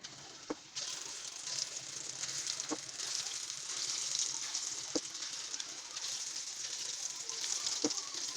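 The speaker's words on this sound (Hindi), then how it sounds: "हम जल्दी जल्दी अपने ये मसूर की दाल के पकोड़े जल्दी जल्दी तैयार कर रहे हैं" Masoor dal pakoras fry in hot oil, a steady bright sizzle that stays moderately loud throughout, broken by a few sharp clicks and taps at spaced intervals.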